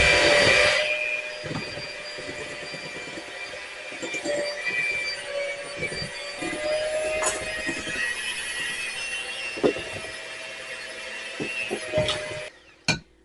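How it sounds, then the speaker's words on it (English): An electric mixer runs on low speed in a kitchen bowl while making buckeye candy. It gives a steady whirring hum with faint clinks and knocks, then cuts off near the end. "I'm going to put the mixer on low and start there"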